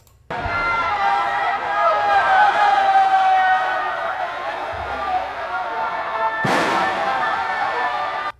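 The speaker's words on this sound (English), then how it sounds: "we got an explosion out of that one." Synthetic explosion effect: a dense, roaring rumble with crowd-like wash and tonal music layered in, followed by a sudden sharp bang near the end, loud and sustained throughout.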